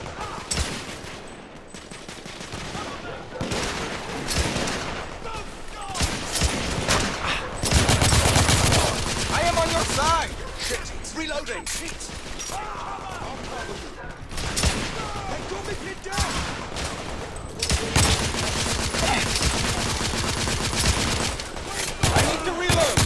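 Dense gunfire from the action video game The Order: 1886 crackles loud and close in rapid bursts and sustained fusillades throughout, with mechanical weapon clatter and shouted voices mixed in.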